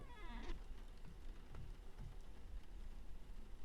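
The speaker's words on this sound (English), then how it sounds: "I like how with the rain you can hear like it on the wood" Rain falls on wooden structures in the video game Vintage Story, a steady, soft, broadband patter at low volume throughout, with a brief higher chirp near the start and no talking.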